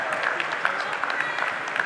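An audience at a business and entrepreneur expo claps for a speaker, a dense, even wash of applause lasting throughout, with a voice mixed into the crowd noise.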